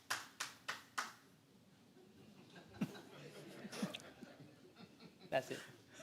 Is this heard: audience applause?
yes